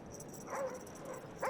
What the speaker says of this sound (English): Dogs incoming.